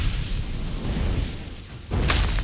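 A turret is destroyed in a video game, marked by a deep boom and a bright burst of noise near the end after a continuous rumbling, noisy game soundscape.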